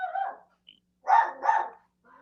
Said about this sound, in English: That's my dog barking at the shadow in the hall.